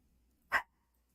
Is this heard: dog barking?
yes